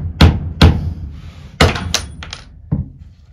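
A hammer strikes nails while a chicken coop is being built, several sharp, close knocks at uneven intervals with short ringing decays and quieter taps between.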